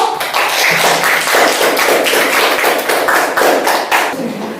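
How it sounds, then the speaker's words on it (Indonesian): Students in a classroom give group one a loud, close round of rhythmic hand clapping that stays even throughout. "tepuk tangan untuk kelompok satu"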